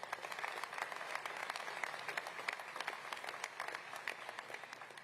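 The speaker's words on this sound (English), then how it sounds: "Nice round of applause for our entire dais." Steady applause from an audience honoring the dais at an FDNY commissioner swearing-in ceremony in New York City, dense clapping that holds at an even level throughout without fading.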